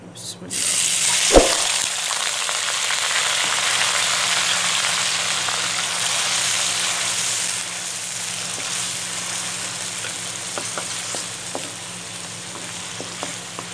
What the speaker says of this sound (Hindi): ऑयल हमारा गर्म हो गया, तो हमने एक अदद लिया है प्याज, जो बिल्कुल बारीक सा काट लिया। तो करते हैं इसको ऐड।